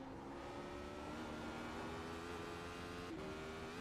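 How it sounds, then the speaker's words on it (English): A Radical SR8 race car engine in the iRacing simulator drones steadily, with the revs falling and holding low as the throttle comes off, a quiet, even whine without sharp bursts. "Listen to the revs die off completely compared to the lap before"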